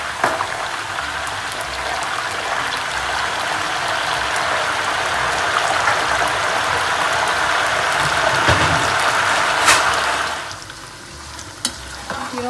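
Homemade banana, sweet potato and potato chips fry in hot oil, a loud, continuous crackling sizzle with occasional pops and stirring, easing somewhat near the end, with no talk.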